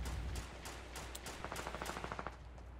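Rapid gunfire in the Fortnite battle royale game, a quick burst of evenly spaced shots that sounds off to one side, moderately loud against steady game background noise with no talking.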